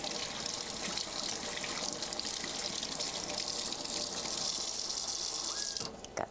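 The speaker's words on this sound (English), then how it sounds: "Let me rinse my hands here real quick." A kitchen tap runs steadily into a sink while hands are rinsed of sauce, a broad continuous splash and hiss that holds for several seconds before the water shuts off near the end.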